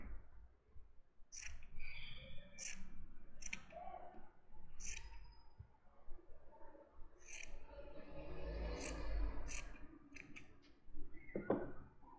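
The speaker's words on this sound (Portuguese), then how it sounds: "vem com a tesoura e corta aqui, ó" Scissors snip repeatedly at close range while trimming a small handmade fuxico fabric doll, giving a series of sharp metallic cuts with short pauses and no talking.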